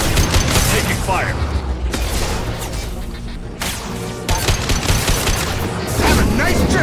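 Gunfire from the video game Mass Effect 2 rattles in dense, rapid bursts, loud and close, broken by brief pauses, with voices speaking over the shooting.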